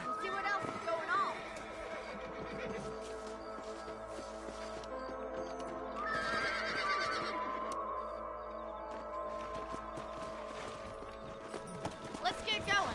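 A horse whinnies amid steady clip-clopping hooves in Red Dead Redemption, layered with music and a voice talking over the scene.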